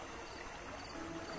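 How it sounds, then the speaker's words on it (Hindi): In an animated Hindi horror story, a man urinates into a temple pond, making a steady, soft trickling stream of water that runs unbroken for the whole short moment. "और फिर उसने तालाब के पानी में पेशाब करना शुरू कर दिया।"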